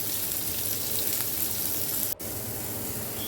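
Chopped onion and crushed ginger hit hot ghee with crackled cumin seeds and a pinch of asafoetida, giving a loud, steady close-up sizzle with one brief dropout partway through.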